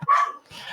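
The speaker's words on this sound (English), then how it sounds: "Sorry if you can hear my dogs." Dogs bark indoors in the background of a card game discussion, a sharp yelp followed by a rougher second bark, moderately loud, with no speech over them.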